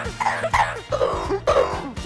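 A yellow-naped Amazon parrot imitating a human cough, giving a quick series of rough, raspy coughing bursts close to the listener in a home.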